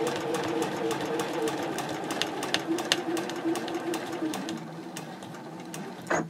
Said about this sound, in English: now I will stitch right on top of that line all the way up to the top